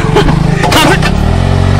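A motorcycle engine rumbles steadily close by, with a brief rise in revs partway through and a low, throbbing idle after.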